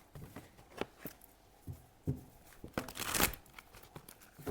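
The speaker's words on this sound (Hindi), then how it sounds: "let me pull out some more cards" Tarot cards being pulled from a deck, heard as quiet, close papery slides, flicks and crinkles scattered irregularly with a brief louder rustle toward the end, and no talking.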